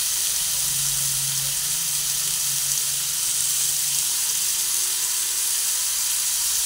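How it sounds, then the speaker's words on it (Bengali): Papaya pieces fry in oil with turmeric, a dense, steady sizzle that runs close and unbroken throughout, with a faint low hum briefly underneath and no talk. "পেঁপেটাও অল্প করে ভেজে নেব।"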